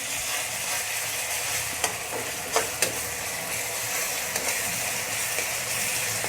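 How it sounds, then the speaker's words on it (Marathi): Ginger garlic paste fries in a pan for a chicken leg masala, a continuous dense sizzle with a few faint stirring clicks, close and steady, no talking. "आता त्याच्यामध्ये आपल्याला दोन चमचे अद्रक लसणची पेस्ट आपल्याला घालून घ्यायची आहे आणि त्याला देखील एक दीड मिनटं आपल्याला फ्राय करून घ्यायचं आहे"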